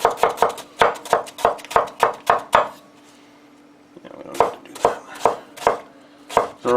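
A knife chops small onions on a board in a regular quick rhythm of crisp close taps, pausing for a few seconds before a second run of even strikes.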